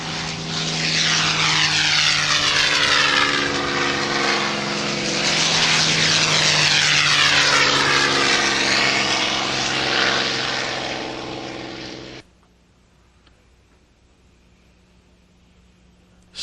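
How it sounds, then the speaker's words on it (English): A Spitfire Mark 14 warbird propeller fighter roars past at a 1993 air show, a loud, sustained engine drone with a sweeping pitch shift as it passes, then cutting off abruptly to quiet background for the last few seconds. "our Mark 14 we have here today is a little faster than the P-51D"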